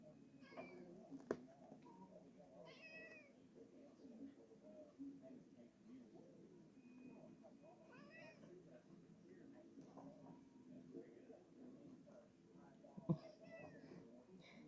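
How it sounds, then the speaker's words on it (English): A cat meows faintly several times in a quiet outdoor setting, soft and a little distant, with people talking quietly over it. "shut up, cat."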